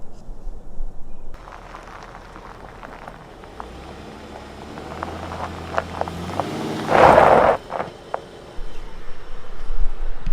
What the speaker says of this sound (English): I'm gonna try to back up onto this gravel mound here, and we'll see what it does for the suspension.